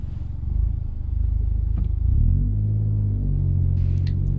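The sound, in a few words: car pulling away on a hill start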